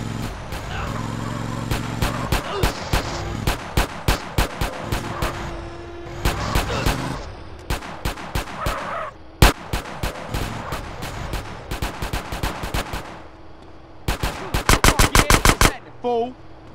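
Gunfire in Grand Theft Auto: San Andreas, with rapid bursts of automatic shots and single loud cracks in clusters, dense and close, layered over game background noise.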